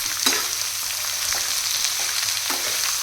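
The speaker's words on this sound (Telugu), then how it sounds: "బీరకాయలు వేసి బాగా ఫ్రై చేసుకోవాలి బీరకాయలు." Ridge gourd pieces fry in a pan with a steady loud sizzle, broken by a few scraping stirs and no voices.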